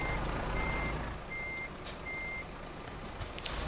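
Repeated reversing beeps from a Volvo FH truck in the Euro Truck Simulator 2 video game, three evenly spaced steady tones over a constant low engine rumble, with no talking.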